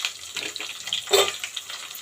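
Onions go into a hot pan for vegetable rice, giving a bright, crackling sizzle with a sharp hiss near the middle, fairly close and steady, with no voices over it.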